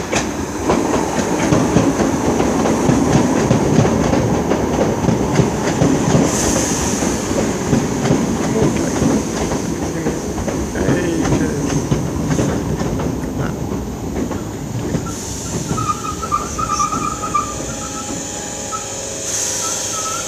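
Train passing through Finsbury Park station, a sustained rumble with rhythmic clickety-clack of wheels over rail joints and occasional high squeals, fairly loud and close throughout.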